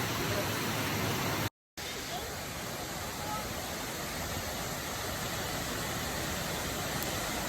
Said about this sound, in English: And man, the water is flowing everywhere.